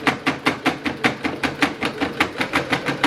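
A sewing machine stitches the side seams of an autumn coat at a 5/8 inch seam allowance, a fast, even rhythmic thumping of the needle close up and continuous.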